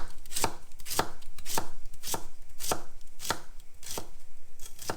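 A chef's knife slicing a fennel bulb thinly on a cutting board, crisp regular chops about twice a second, close and clear with no talking.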